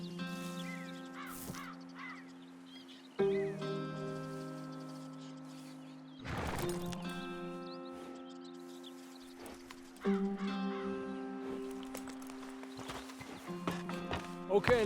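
Horse-drawn wagon rolling along in Red Dead Redemption 2, with steady hoof clip-clop and a horse whinny under sustained music tones, with crows cawing at moments.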